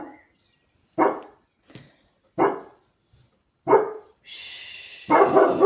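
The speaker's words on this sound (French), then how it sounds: "Le chien était en train d'aboyer sur un chat" A dog barks in four separate loud bursts with pauses between, followed by a steady high hiss and a final harsher bark-like burst.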